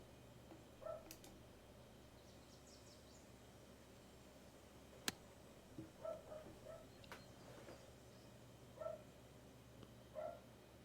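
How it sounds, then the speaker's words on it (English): Faint dog barks echo from far away on an outdoor golf course in the mountains, a few scattered short yaps spread across several seconds amid birdsong and low ambient hiss. "I hear a barking dog."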